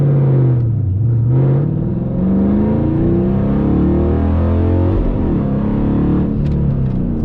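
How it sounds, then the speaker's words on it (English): Dodge Challenger R/T launched hard from second gear, its engine roaring loud and close as the revs climb steadily, with no talking. "I got no wheel spin at all, and I accelerated really hard"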